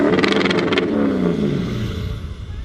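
Ford truck with a 6-liter engine revving at a Pacific Northwest truck show, a loud, close, rough engine roar that surges and rumbles steadily without talk.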